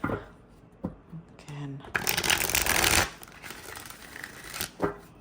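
A deck of tarot cards is shuffled by hand, with stiff riffling and rustling bursts peaking in the middle, and a voice briefly speaking near the start.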